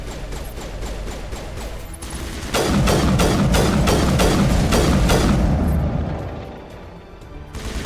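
Rapid bursts of gunfire from the Mass Effect video game, a dense volley of repeated shots and booms that swells loud in the middle, then eases off.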